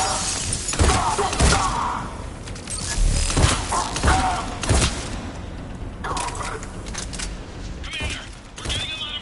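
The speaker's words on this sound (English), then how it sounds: "Commander, we're getting a lot of mortar fire." Mortar fire in the video game Mass Effect 3, with repeated sharp explosive cracks and crashing debris impacts at irregular intervals over a dense battle din, some hits close and loud.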